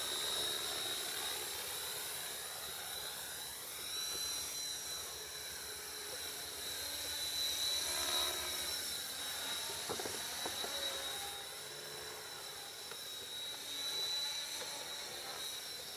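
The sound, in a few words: radio-controlled model helicopter flying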